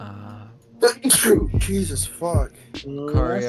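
A single sharp human sneeze bursts out close and loud, followed by voices talking over the moment.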